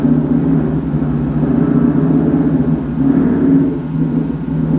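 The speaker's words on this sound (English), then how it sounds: "That was either a car or a motorcycle" Steady low engine rumble of a car or motorcycle passing outside, continuous and moderately loud with a slight swell toward the middle and no talk.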